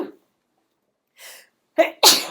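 A person sneezes indoors: a short intake of breath, then a sharp, loud explosive sneeze up close, with a brief breathy sound beforehand and no speech.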